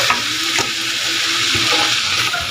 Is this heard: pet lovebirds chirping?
no